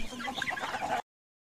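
Chickens cluck on a poultry farm that also raises pigs, a busy layered chorus of close hens lasting about a second before cutting off abruptly to silence.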